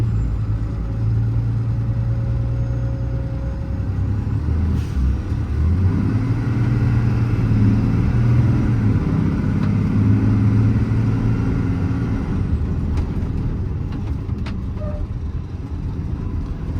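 2023 Mack MD6 service truck with a Cummins diesel and 134k miles driving down the road, a loud steady engine rumble rising and falling as it shifts through the gears, heard close from inside the cab.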